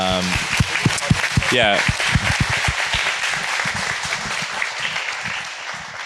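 Audience applause after a fireside chat at an online services summit, a steady clapping wash with some nearby claps, while a voice speaks briefly at the start.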